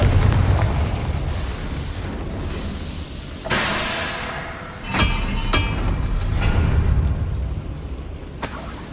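Confringo spell explosions in the video game Hogwarts Legacy: a deep rumbling blast followed by sharp bursts and booms, loud and layered with rumble in between.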